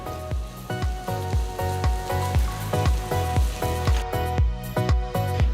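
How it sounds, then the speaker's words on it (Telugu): Sliced onion fries in three teaspoons of hot oil in a pan, giving a steady sizzle with regular crackling pulses. No one speaks. "నూనె కాస్త వేడెక్కిన తర్వాత ఇందులో పొడవగా తరిగిన ఒక ఉల్లిపాయ వేసి వేయించాలి"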